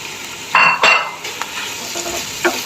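Three portions of pre-boiled noodles drop into a hot pan and are stirred, giving a couple of loud wet slaps and utensil scrapes over a steady sizzle.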